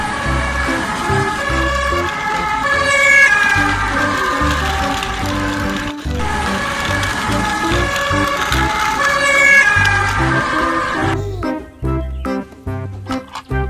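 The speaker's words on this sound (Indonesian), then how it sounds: "ada ambulan." Ambulance siren from a children's vehicle cartoon, a wailing rising-and-falling electronic tone repeating over bouncy background music, loud and continuous before the music shifts near the end.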